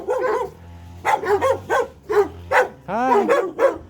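Female dog barking in short repeated bursts at close range, loud and spaced about half a second apart, ending with a higher yip-like whine.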